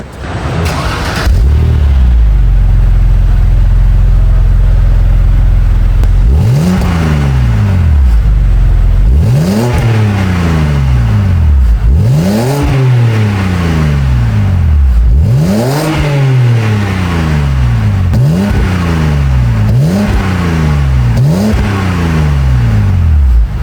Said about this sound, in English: That's the sound of a 3-liter inline 6-cylinder motor.